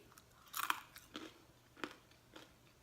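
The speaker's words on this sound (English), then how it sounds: "Can you hear the crunch?" Microwaved sweet potato chips crunch between the teeth, several sharp, close bites and chews scattered over a few quiet seconds.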